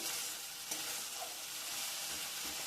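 Spice masala with turmeric for a bata fish curry fries in a pan, a close, steady hiss of sizzling oil with a faint scrape of stirring.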